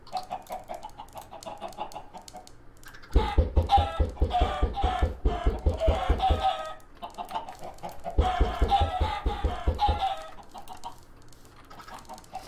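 Hens clucking in a blocky Minecraft chicken farm, a steady busy chorus of short repeated clucks with two louder, denser bursts of pulsing cackling; no speech.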